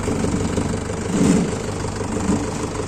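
A Mahindra tractor engine running steadily near a farm field, a low continuous idling chug with a slight rise in revs midway, close and fairly loud, with no talking.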